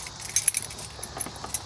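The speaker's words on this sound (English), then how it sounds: "So we're putting our key back in the ignition." A Mercedes infrared key goes into the EIS ignition slot during key programming, a short run of small metallic clicks and light jingles, close and fairly quiet, with no talk over it.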